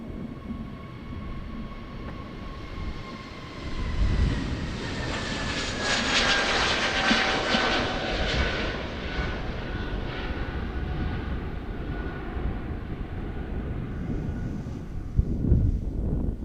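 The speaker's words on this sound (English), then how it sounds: "We do have some planes incoming here on 36 left." Jet airliners arriving on runway 36 Left at Amsterdam Schiphol Airport, a steady broad engine roar that swells and holds for the whole stretch, heard from outdoors with some wind noise and no talk.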